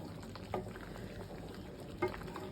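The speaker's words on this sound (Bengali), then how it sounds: "এখানে আমি পোলাও ভাতটা বসাই দিছি, প্লেন পোলাও।" Plain pilau rice simmering with cow's milk and hot water in a wok gives a soft, steady bubbling hiss, with two brief louder bursts standing out against the constant low simmer.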